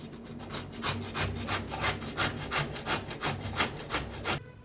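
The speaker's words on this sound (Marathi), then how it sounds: "आता इथे मोठी किसणी घेतलेली आहे," Raw mango is grated on a large grater in steady, rhythmic rasping strokes, about a dozen close scrapes in quick succession, then it stops, no talking.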